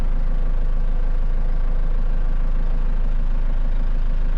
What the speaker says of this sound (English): Turning on my tractor has to be one of my favorite things right now.